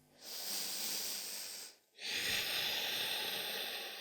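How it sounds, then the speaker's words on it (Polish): Slow, steady breaths during a yoga pose: a long airy exhale lasting over a second, a brief quiet pause, then another long hissing breath, close and fairly soft with no talking. "Jeszcze jeden oddech."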